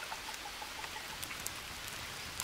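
Steady rain in the jungle survival game Green Hell, a soft continuous patter of drops with scattered louder droplet ticks, no talking.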